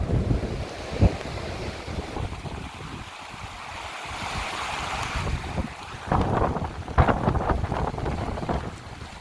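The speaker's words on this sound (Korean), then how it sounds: "아우, 정말 바람 너무 세네요." Strong Patagonian wind roaring and buffeting the microphone without pause, gusting harder toward the end, with rushing noise much like surf.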